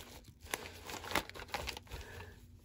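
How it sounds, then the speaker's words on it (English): Packaging from a mailed package crinkles and tears as it is opened, with brief close bursts of rustling and a few sharper rips. "I'm so excited to open it up and see what's inside of it."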